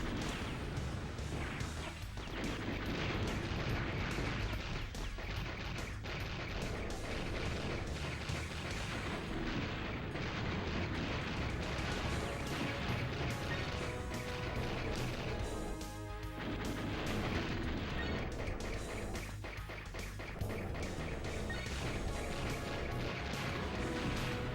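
Continuous shooting and explosions in Blaster Master on PlayStation 2, a dense, loud wash of blasts and crashing impacts that runs without pause, with occasional brief dips between bursts.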